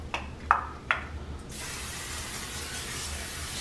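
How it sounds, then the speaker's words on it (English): Canola oil cooking spray misted onto the bottom of a baking pan, heard as a few short hissing bursts followed by a steady, close spray hiss. "I'm gonna spray the bottom of my pan"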